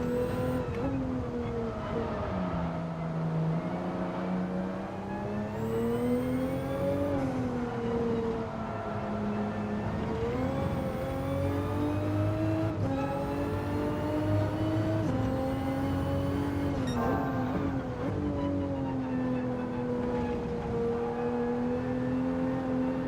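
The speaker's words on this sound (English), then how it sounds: "This is a Supra." Toyota Supra engine in a racing game, revving and shifting repeatedly with pitch climbing and falling across gear changes, loud and sustained, no talk.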